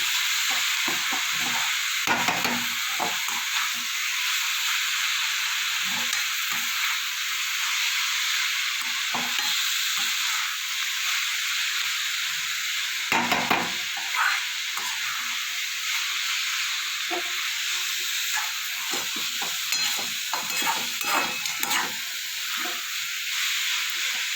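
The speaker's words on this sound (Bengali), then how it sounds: "এভাবে ভালো করে মশলাটা দিয়ে নাড়াচাড়া করে নেবো" Cabbage and spices being stirred in a hot pan for a Bengali bhoger badhakopi ghonto, a steady broad sizzle with repeated scraping strokes of the spoon throughout, close and fairly loud, no voices.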